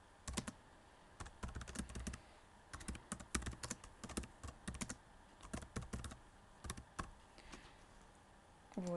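Text is typed on a computer keyboard in quick, irregular bursts of close, crisp key clicks with short pauses between runs, alone and with no talking.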